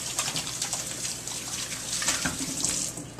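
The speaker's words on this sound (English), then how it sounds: "Gotta wash my hands." A kitchen tap runs steadily as hands are washed before making buns, a close, continuous splashing stream with small changes as the hands move under it, and no talking.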